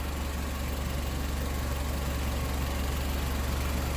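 Car engine idling steadily while overheating from a head gasket fault, a constant low hum close by with no talk.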